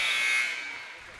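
A basketball game clock buzzer sounds at the end of a quarter in a girls' varsity game, a loud, sustained electronic tone that fades over a second amid gym noise.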